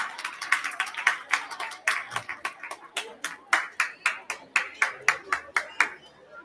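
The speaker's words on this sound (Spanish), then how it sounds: "Un fuerte aplauso" Steady rhythmic clapping from a small group at a school Chingana event, sharp even hand claps repeating at a brisk pace for several seconds, fairly close and alone.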